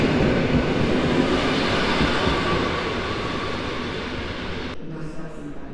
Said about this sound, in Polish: a wjeżdża pociąg z Ostrowca Świętokrzyskiego.